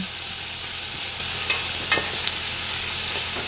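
Fennel, garlic and crushed pepper sauté in a pan with a steady, moderate sizzle and a few soft clicks of stirring, heard alone without talk.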